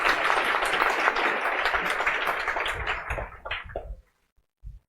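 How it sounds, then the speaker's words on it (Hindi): A hall audience claps loudly to honour a teacher, a dense burst of applause for about four seconds that fades out, followed by silence and a faint thump. "एक बार इनकी सफलता के लिए जोर से ताली"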